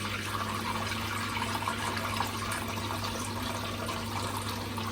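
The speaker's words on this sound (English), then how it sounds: "we have the shower, and apparently it's on all the time" A hotel room shower runs with a constant steady water hiss and splash, moderately loud and close, with no voices over it.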